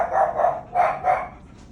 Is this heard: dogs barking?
yes